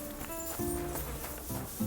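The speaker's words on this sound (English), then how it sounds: "whose horse is that?" Horse hooves clip-clop in Kingdom Come: Deliverance 2, a short walking rhythm of a few close hoof strikes over steady game ambience.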